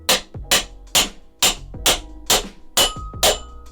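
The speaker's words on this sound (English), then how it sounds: "and then we want to tap the axle here" A hammer taps the motor axle out of a Xiaomi electric scooter wheel with eight sharp metallic strikes at a steady pace of about two per second, loud and close, each leaving a brief ring.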